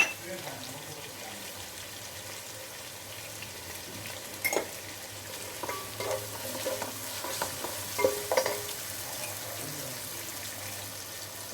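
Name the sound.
sautéing onions with salt in a pan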